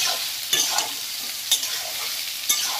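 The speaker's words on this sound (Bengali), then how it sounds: "ওই তেলের মধ্যে ভাজতে ভাজতে আমড়াগুলো সেদ্ধও হয়ে যাবে" Hog plums for a pickle sizzle in hot oil, a continuous bright hiss broken by three evenly spaced spatula scrapes about a second apart, close and moderately loud.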